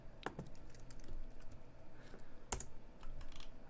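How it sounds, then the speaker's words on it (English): Computer keyboard typing during a programming session, with quiet, irregular key clicks and a couple of sharper taps, close and soft with no talking. "I want to do a little bit more typing"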